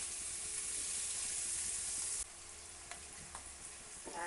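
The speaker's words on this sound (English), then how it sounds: "the garlic, stir those for a couple of minutes until they start to soften" Garlic sizzling and frying in a pan while being stirred, a steady bright hiss that drops in level partway, with soft scraping clicks of the stirring.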